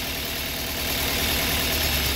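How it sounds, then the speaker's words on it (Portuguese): Engine of a 2002–2009 Toyota Corolla idling steadily up close, running rough and weaker after one ignition coil is unplugged, a continuous mid-low drone with no talk over it. "Ó, motor fraqueceu na hora, tá vendo?"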